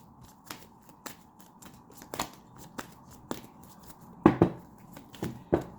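Tarot cards are shuffled by hand in a quiet room, a series of sharp close riffles and taps spaced about half a second apart, with a few louder bursts near the end.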